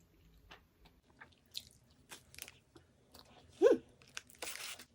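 Close-up eating of a milk cream donut, with sparse soft bites, squishy chewing and crinkly wrapper rustles, plus one sharp louder crunch midway; murmured voice sounds mix in between the bites.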